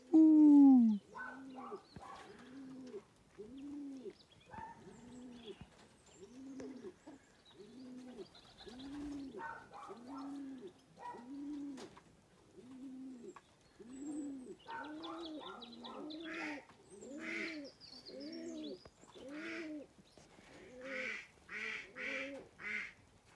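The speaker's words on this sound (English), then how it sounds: "There's a lot of bird life up here," Birds call steadily outdoors, with a long run of rhythmic, pigeon-like cooing notes repeating at an even pace, along with some duck-like quacks and higher chirps toward the end. The calls are moderately close and are heard with no talking.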